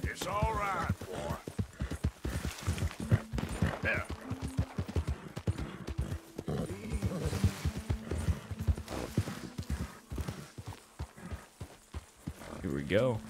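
Horse hooves clip-clop in Red Dead Redemption 2 as a steady walking rhythm, close and fairly loud, under game dialogue and a voice speaking over it.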